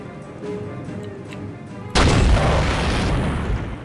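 A sudden loud explosion booms in Soldier of Fortune after a quieter stretch of game ambience, then rolls on as a deep, sustained rumble with no talk.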